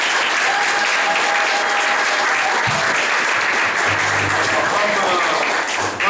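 Loud, dense applause from guests at a wedding ceremony in Libreville, sustained without a break, with a whistle or shrill cheer and murmured voices underneath.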